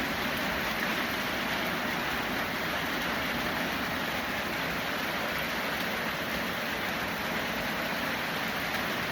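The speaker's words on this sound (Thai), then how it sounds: "ฝนตกแล้วพี่น้อง" Steady rain pours down around a house in Thailand, a dense, even hiss that runs without a break at moderate level, with no voices over it.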